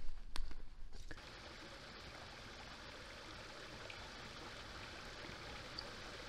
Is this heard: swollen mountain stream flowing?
yes